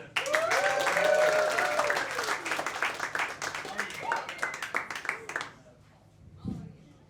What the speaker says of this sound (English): Make a lot of noise, everyone, for your next comic.